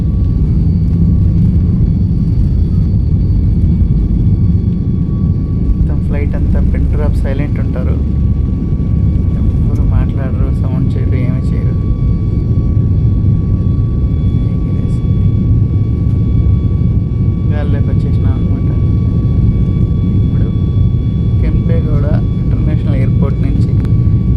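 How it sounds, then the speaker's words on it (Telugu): Loud, steady aircraft engine roar fills the whole stretch, a passenger jet speeding up for takeoff on the runway at Kempegowda International Airport, Bangalore, with voices talking faintly at times underneath. "ఫ్లైట్ టేక్ ఆఫ్ అవుతుంది."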